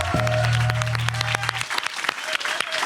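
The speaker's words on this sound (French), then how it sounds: "je te propose de l'applaudir" A live audience applauds a singer at a music show, with a loud burst of clapping and crowd noise over a fading sustained low tone that cuts off partway, then continued scattered claps.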